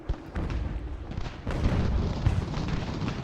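Artillery in the Ultimate General: Revolution Battle of Burlington gives off deep, rumbling booms blended into a continuous roar of distant battle, growing heavier halfway through.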